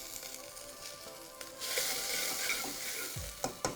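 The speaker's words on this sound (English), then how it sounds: "After adding the onions, I will add ginger and garlic. After ginger garlic, I will add celery sticks." Onions, ginger, garlic and celery sticks sizzling and frying in a pan for tomato soup, a steady close hiss that swells louder midway, with a few clanks of stirring near the end.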